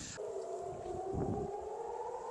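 An air raid siren wails during a missile attack on central Israel. It holds one steady, rising tone heard from a distance over a low, constant background hum.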